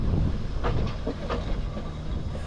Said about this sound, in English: Merdyn Emrys steams out of the sidings ready to run the next departing Festiniog train.